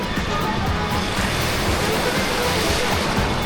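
Waves surge through an empty waterpark wave pool, a steady close-up rush of churning water with some wind buffeting the microphone and no break across the whole stretch.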